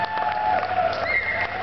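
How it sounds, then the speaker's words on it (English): An audience cheers and claps for Métis dancers, a sustained wash of applause with whoops and shouts from a crowd, continuous and fairly loud. "Let's give them a nice round of applause, everybody."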